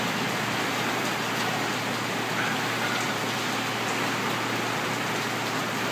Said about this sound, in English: see by the light how it's like all that rain is going